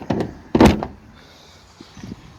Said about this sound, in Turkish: Şöyle kapıyı kapatayım.